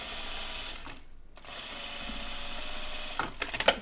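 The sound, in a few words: sewing machine stay stitching jeans waistline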